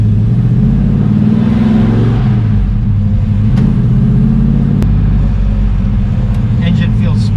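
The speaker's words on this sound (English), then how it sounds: "Engine feels way smoother than it used to when it revs." Rebuilt LS6 454 V8 in a 1968 Chevelle heard from inside while driving, a steady low engine drone that swells slightly as it revs, with people talking over it throughout.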